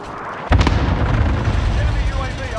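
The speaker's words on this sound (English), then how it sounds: "Enemy cluster strike incoming." Cluster strike explosions in Call of Duty Warzone, a sharp loud burst followed by a sustained rumbling barrage of blasts that rolls on to the end, with faint talk underneath.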